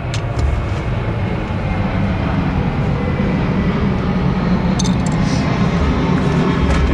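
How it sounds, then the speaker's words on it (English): A steady, loud broadband roar of a passing airplane overhead, outdoors during an outboard motor gear oil change, holding constant over the whole stretch with no talk. "We'll wait for the airplane."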